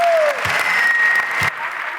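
Steady applause from the audience at an award ceremony for a performing group, a continuous close wash of clapping with a short cheer near the start.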